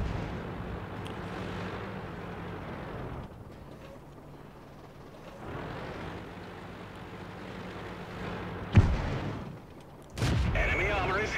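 Tank cannon fire in the World of Tanks game, with British Matilda tanks in play: a steady engine-like drone broken by a sharp loud blast near the end and another heavy burst right after, with no talking.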